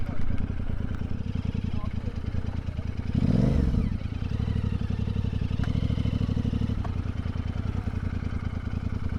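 Motorcycles arriving at a busy gathering and parking up, a nearby engine chugging and revving with one bike passing close, while people talk.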